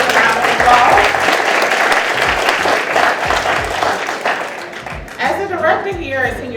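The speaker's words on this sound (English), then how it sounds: "So could you give Clayton County Senior Services a round of applause?" An audience at a senior center town hall applauds Clayton County Senior Services, loud sustained clapping with crowd noise that dips briefly and then swells again, with voices heard over it.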